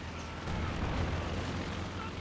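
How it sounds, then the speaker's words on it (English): A long, loud rumbling explosion with a dense crackling roar fills a Company of Heroes 2 battle as a German Panzer IV tank is destroyed by an anti-tank gun. "Nice explosion."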